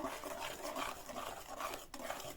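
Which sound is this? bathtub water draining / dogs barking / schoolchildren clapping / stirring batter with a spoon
stirring batter with a spoon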